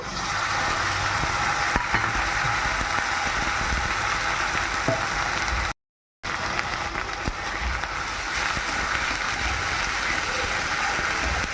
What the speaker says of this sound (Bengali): এবার মশলা দিয়ে দিচ্ছি